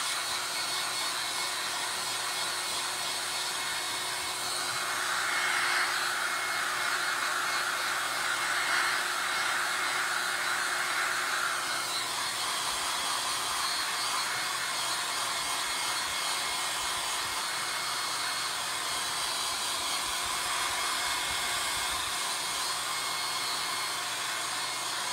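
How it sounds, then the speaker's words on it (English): A handheld hair dryer blows continuously for about twenty-five seconds, a steady, close airy whine with a motor hum that swells slightly in the middle, with no voices over it. "I just have to put the hairdryer on a little bit right now."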